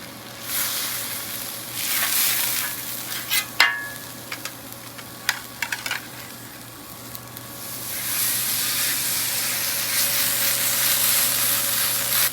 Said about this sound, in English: So we're going to cook the steak now and let it rest.